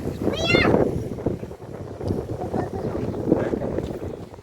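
Wind gusting outdoors in Karachi, a steady breezy rush across the whole stretch, buffeting close to the microphone, with people talking and a voice over it.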